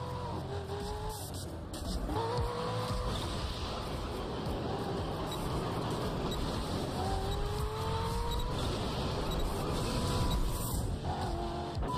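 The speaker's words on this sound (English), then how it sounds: "he's driving a high-speed performance car that needs to stay on the road to really perform" A high-speed performance car in The Crew racing game roars continuously at high revs, engine pitch rising through gear changes, loud and steady with occasional tire noise.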